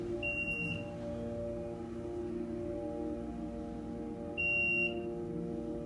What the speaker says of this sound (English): It's a loud beep.